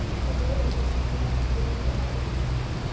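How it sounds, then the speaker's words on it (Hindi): Heavy rain pours outside a hospital, a dense, steady roar of falling water on surfaces with no let-up, loud and close, with no clear talk over it. "तो गाइस क्या है कि अभी बरसात स्टार्ट हो गई है अपने भी हॉस्पिटल में"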